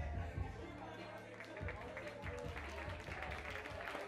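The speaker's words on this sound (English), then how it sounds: "We give him a round of applause." Crowd applause and cheering at a ballroom voguing event in Turin rise in a dense wash beneath loud, thumping bass-heavy dance music, with chatter mixed in.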